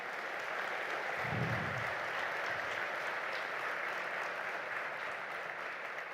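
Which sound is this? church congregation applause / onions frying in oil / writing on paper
church congregation applause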